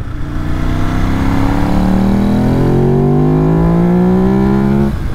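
A 2006 Ducati Monster S4RS engine revs up steadily in third gear, its loud buzzing pitch climbing for several seconds before easing off at the end.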